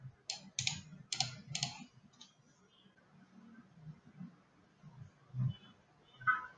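A few bursts of key clicks as a domain name is typed on a computer keyboard, close and fairly quiet, with soft low bumps and a final click.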